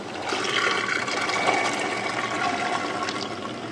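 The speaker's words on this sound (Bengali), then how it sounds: "এবার দিয়ে দিচ্ছি 500 ওভারনাইট ভিজিয়ে রাখা মটর।" About 500 g of overnight-soaked peas tumble into a pan of frying spice masala with garam masala and cumin, setting off a steady, close, broadband sizzling hiss that holds for several seconds with no voices.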